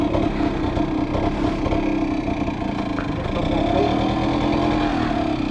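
A motorcycle engine hums steadily during a ride, a continuous close drone with slight pitch shifts as the throttle changes, and a person talks over it.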